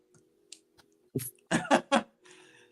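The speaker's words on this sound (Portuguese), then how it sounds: "Que a tosse agora veio forte." A few sharp, hoarse coughs in quick succession after faint small noises, close to the listener, followed by a brief soft breath.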